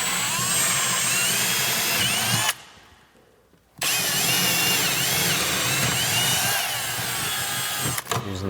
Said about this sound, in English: and then I drill into the corners.